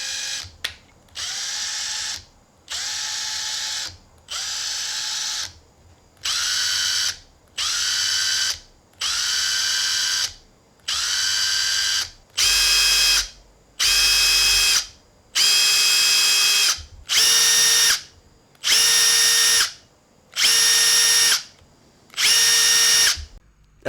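Makita LXT 4-speed cordless impact driver run free in repeated bursts, a dozen or more whirring spins separated by short pauses, loud and close, with the whine growing sharper and more tonal through the later, faster speed settings.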